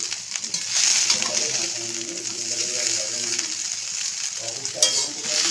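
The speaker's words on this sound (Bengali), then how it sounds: "ওকে এইভাবে কিছুক্ষণ নাড়তে হবে।" Rice fries in a pan while being stirred, making a constant close sizzle with scraping and clinking stir strokes and a sharper crackle near the end.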